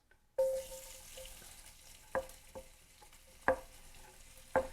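Apples and thinly sliced onion go into a hot pan after pork chops. A sharp sizzle flares up, followed by a quieter steady frying hiss and a few clicks from the pan and utensils.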